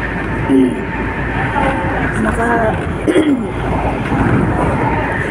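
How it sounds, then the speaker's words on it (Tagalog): Steady low rumble of a moving MTR metro train from inside a carriage, with faint squeals and clatter, and people talking over the noise. "Nasa tren ako ngayon."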